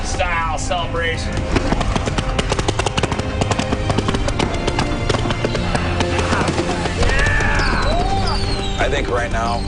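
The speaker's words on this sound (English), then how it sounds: "That's a lot of fireworks." Fireworks burst and crackle in rapid, dense popping during a celebration, with whistling rockets rising through it, loud and continuous, while people shout and talk over the noise.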